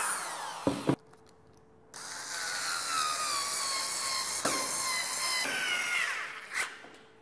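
Power drill driving screws into a screen printing table base, several bursts of high whirring with pauses and knocks between, close and fairly loud.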